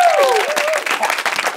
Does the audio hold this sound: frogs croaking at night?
no